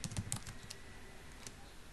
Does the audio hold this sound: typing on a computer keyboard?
yes